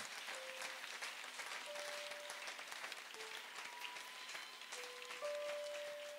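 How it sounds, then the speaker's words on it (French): A church congregation at a worship meeting in Gabon claps and applauds steadily and loudly throughout, with sustained tones from an organ or keyboard ringing beneath the clapping. "on peut vraiment acclamer le Seigneur"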